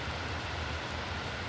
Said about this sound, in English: all of a sudden, it's raining cats and dogs.